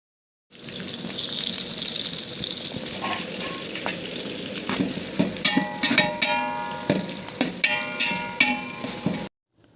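Sliced large onions and green chillies frying in a big batch for chicken biryani, a sizzle that starts abruptly and grows, with crackling pops and stirring clatter toward the end.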